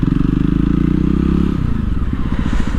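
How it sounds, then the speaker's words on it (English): A Jawa Perak motorcycle exhaust on a ride burbles loud and close with a deep, rapid pulsing thump, then the beat shifts and loosens as the throttle changes. "This motorcycle has the best sounding exhaust, not in its just class, pretty much everywhere else."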